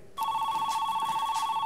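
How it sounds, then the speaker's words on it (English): A telephone rings with a steady electronic bell tone that starts abruptly after a brief quiet moment and continues loud and close, pulsing slightly, with no talking. "answer the phone!"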